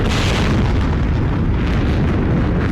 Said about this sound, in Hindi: इस बीच बेहद नजदीक इतने तेज धमाके होने लगे कि सिर्फ बम और बारूद का शोर ही सुनाई पड़ रहा था